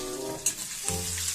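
Ginger and garlic sauté briefly in hot oil, giving a soft, even sizzle with a couple of faint utensil clicks, heard nearby with a low background hum and no talking.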